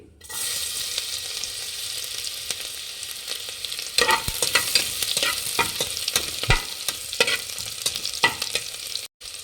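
Onion sizzling in hot butter and oil for tempering, a steady close crackling hiss with occasional sharp stirring clinks and scrapes, no one speaking.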